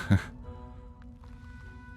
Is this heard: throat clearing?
yes